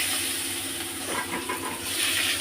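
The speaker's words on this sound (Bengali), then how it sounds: "ওই তেলের মধ্যে দিয়ে দিচ্ছি কিছুটা কুচানো পেঁয়াজ" Chopped onions frying in hot oil left from frying fish and potatoes, giving a steady, close broadband hiss and sizzle that holds evenly throughout with no talking.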